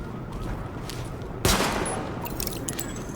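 A sidearm fires at highlighted targets in The Division: one sharp, loud shot cracks out midway, followed by a decaying echo and a few faint ticks over a low background hum.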